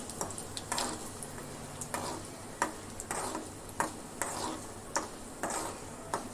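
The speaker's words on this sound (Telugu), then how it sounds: "వీటిని కొంచెం ఫ్రై అవనిద్దాం. చూసారా, ఇవి చక్కగా ఫ్రై అయిపోయినాయి." Ingredients with dried red chillies frying in oil in a pan for a fenugreek-leaf dal, with a steady sizzle and regular scraping stirs and clinks of a utensil at roughly one-second intervals.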